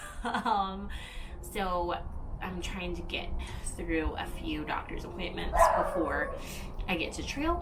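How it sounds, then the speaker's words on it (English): A neighbor's dog barks and yips repeatedly outdoors, fairly close and loud, running through continuous talking from a person standing outside. "Please excuse the neighbor dog, he's upset that I'm outside."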